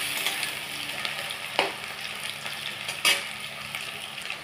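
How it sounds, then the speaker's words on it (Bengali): Potatoes sizzle in hot mustard oil in a pan, a steady close hiss of frying with a couple of sharp clatters as a spatula stirs them, no talking. "তেলটা গরম হয়ে গেছে, তো এবার আমি এখানে আলুগুলো প্রথমে দিয়ে দিচ্ছি।"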